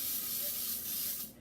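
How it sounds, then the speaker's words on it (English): Steady hiss of baking spray, an all-in-one flour and oil coating, misted into cake pans for a key lime cake, continuous and close for over a second before tapering off at the end, with no talk. "So we're going to spray the pans."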